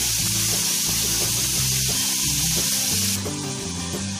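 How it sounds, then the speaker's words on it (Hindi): Paneer frying in a pan until golden brown, a steady close sizzle running throughout with no voices, while a tonal musical bed of repeating notes plays over it. "पनीर को हम अच्छे से गोल्डन ब्राउन कलर तक फ्राई कर लेंगे।"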